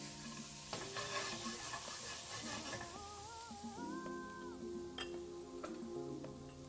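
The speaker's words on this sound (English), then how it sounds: "you want to give that garlic a little bit of time to cook, so just move it around in the pan" Crushed garlic sizzles softly in a pan while it is stirred, giving a faint, steady frying hiss with light scrapes, under a quiet melodic background.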